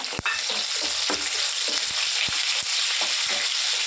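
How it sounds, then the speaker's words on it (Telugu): Chopped onion frying in hot tempering oil with crushed garlic, a constant bright sizzle punctuated by clicking scrapes of a spoon stirring the pan, close and loud with no talk. "ఫ్రై చేసుకున్నాం ఉల్లిపాయలు"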